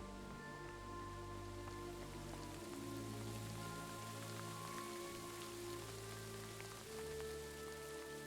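Steady rain falling in the medieval game Kingdom Come: Deliverance 2, a continuous even patter spread across the whole clip, mixed with low tonal game sounds and no talking.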